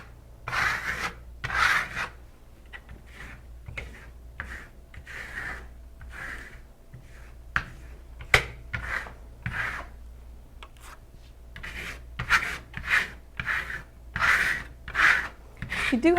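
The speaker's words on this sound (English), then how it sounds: "come back at a slight angle, hard pressure, and scrape off the excess Shimmer Stone" A trowel drags and scrapes Shimmer Stone decorative finish across a textured wall surface, making repeated rasping strokes in irregular bursts, moderately close, with a low steady hum underneath.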